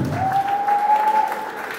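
Audience applause at a gathering honoring a long-serving chairman of a music ministry, a steady wash of clapping heard fairly close with a sustained tone running through it.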